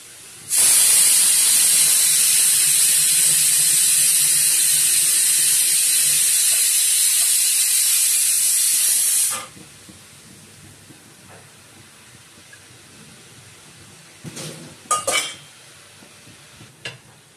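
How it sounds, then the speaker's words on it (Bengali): A pressure cooker holding potato and bottle gourd releases its whistle, a loud sustained hissing blast of steam for about nine seconds that cuts off abruptly, followed by a few clanks of pots. "আমাদের আলু আর লাউতেও সিটি পড়ে গেছে।"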